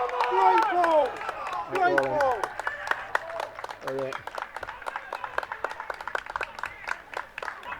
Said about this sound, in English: There's a ripple of applause from behind the goal, and deservedly.